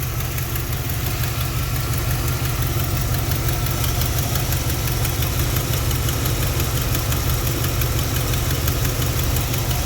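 A 1991 Chevy Silverado engine idles steadily and close, running on the alternator alone with no battery, producing a continuous rumbling drone with a faint ticking knock and no talk.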